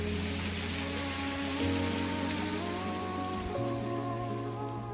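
Monsoon rain shower in Bali, dense steady hiss of rainfall with low tonal hum beneath, continuous and fairly loud throughout.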